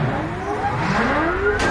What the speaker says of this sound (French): Des voitures circulent dans les rues bétonnées.